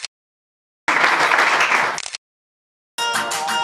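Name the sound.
audience applause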